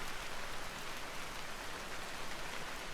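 Steady rain falling in the Vintage Story survival game, an even, dense hiss of drops with no pauses and no voices.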